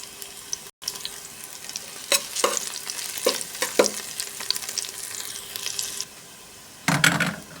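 Garlic sautés in a pan for ampalaya, with crackling sizzles and scraping bursts of stirring coming in uneven clusters, close and moderately loud, with one brief gap.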